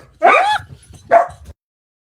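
A puppy gives two short high barks in a row, close and clear, followed by silence.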